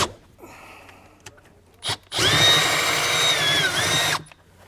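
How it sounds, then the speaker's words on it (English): A power drill whirs loudly for about two seconds as it bores a half-inch hole, its whine dipping under load, after a few quiet clicks. "I'm going to drill a 1/2 inch hole through it."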